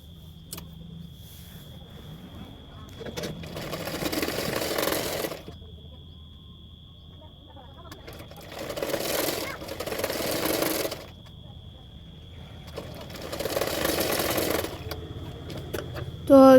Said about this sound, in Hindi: अभी उसको पीछे की तरफ फोल्ड करते और एक सिलाई डाल दूँगी।